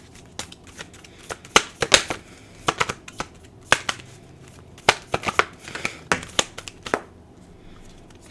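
A deck of oracle cards is shuffled by hand. Crisp, close riffles and slaps come in irregular bursts, loudest in the middle stretch, with quiet gaps between and no talking.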